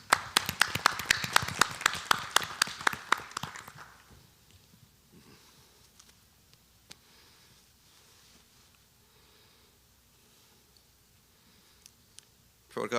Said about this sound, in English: I'd like you all to give them a warm round of applause